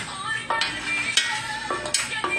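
Browned sausage and thick-cut bacon sizzle in a pot, with a steady frying hiss broken by several sharp scrapes and clinks of a utensil stirring and lifting the meat, close and alone without talk.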